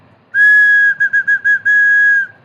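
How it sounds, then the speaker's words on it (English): A single bass whistle tone: one long note, a quick run of short stuttered bursts, then another long held note, close and loud. "I'll give you a hit with the old bass whistle."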